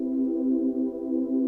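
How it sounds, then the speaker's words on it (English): A sustained, airy synth pad holds an EDM chord, smooth and steady with no attack or talking, tapering slightly just before it ends. "I'm using a very airy pad for this"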